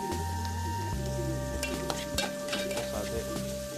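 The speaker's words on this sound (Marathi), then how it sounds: "त्यानंतर आपण चिरलेले कांदे, कांद्यांना आपल्याला ब्राऊन करायचं नाही," Chopped onions frying in a pan for upma, with a steady close sizzle and scraping stirring strokes throughout.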